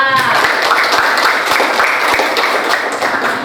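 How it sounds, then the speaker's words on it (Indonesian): A classroom of students applauds a classmate during a lesson, a loud, dense burst of clapping that fills the room throughout, with a short voice at the very start. "Tepuk tangan untuk Zofan"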